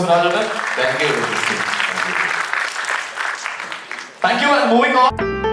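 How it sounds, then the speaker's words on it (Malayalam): A crowd claps loudly and continuously for about four seconds, then the clapping gives way to voices. "നല്ലൊരു കയ്യടി കൊടുക്കാം"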